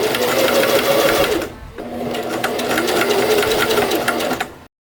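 A sewing machine runs steadily as it stitches a collar along a basting line, its close, loud, rapid mechanical whir broken by one brief pause before the stitching resumes and then stops.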